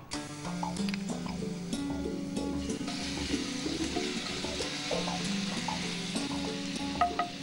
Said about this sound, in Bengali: এবার আমি পেঁয়াজ বাটা, রসুন বাটাটা আগে দেবো